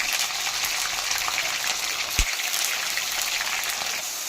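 Paneer frying lightly in a pan: steady, even hiss and crackle of hot oil throughout, with one small thump midway and no voices.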